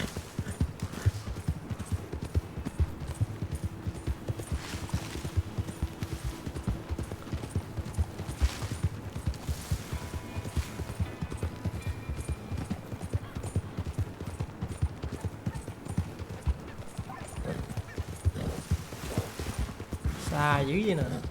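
Horse hooves clip-clopping steadily at a gallop in Red Dead Redemption 2, a dense continuous rhythm with someone talking over it and a brief whinny near the end.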